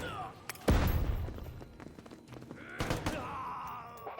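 A flashbang grenade detonates in the video game Door Kickers 2, one sharp, loud bang followed by a ringing decay, with radio chatter and further thuds around it.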